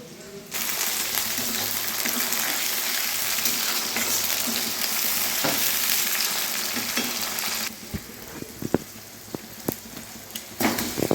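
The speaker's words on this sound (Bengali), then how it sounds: "পেঁয়াজগুলো কষে নিচ্ছি।" Onions frying in a pan for a chicken curry, a loud, continuous close sizzle that drops off partway through, followed by scattered sharp clinks and scrapes of stirring.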